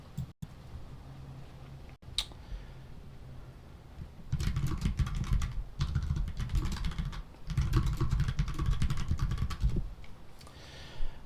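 Typing on a computer keyboard in bursts of fast clicking keystrokes, with short pauses between runs, fairly close and moderately loud over a faint background hiss.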